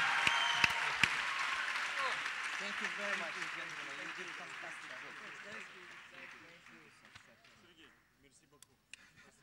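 An audience applauds two athletes, pole vaulter Sergey Bubka and swimmer Alexander Popov, at a champions meet-and-greet. The applause starts loud and dense with voices mixed in, then gradually thins and fades into scattered claps.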